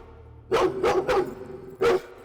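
A dog barks four times at close range, three quick barks followed by a short pause and one more, each loud and sharp over a faint background hum.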